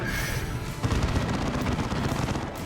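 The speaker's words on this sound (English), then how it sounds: "Man, that Assault Cannon." Rapid heavy gunfire from an Assault Cannon in the real-time strategy game Dawn of War 2: Retribution, a continuous dense rattling barrage with low booms, loud and sustained through the whole stretch.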